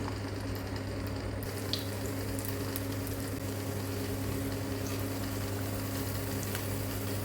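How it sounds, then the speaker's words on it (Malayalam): Banana stem kofta balls deep-fry in hot oil over a low flame, giving a dense, even sizzle that carries on steadily without a break and with no voices. "ഇനി നമുക്ക് തീ കുറച്ച് വെച്ച് നമ്മൾ ഉണ്ടാക്കി വെച്ച ബോൾസ് ഇതുപോലെ പൊരിച്ചെടുക്കാം"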